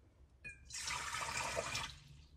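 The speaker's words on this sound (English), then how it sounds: "we're going to add 1 cup of warm water to a bowl" Warm water pours into a bowl for hamburger bun dough, a short, bright gushing splash that starts after a light clink and then tapers off, close and alone.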